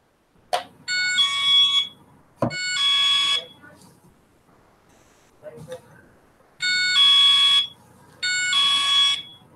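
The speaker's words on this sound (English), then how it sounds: "I bought an alarm system yesterday." Home alarm system sounding in loud repeated electronic buzzing bursts, each lasting about a second, with sharp clicks and thumps in the pauses between them.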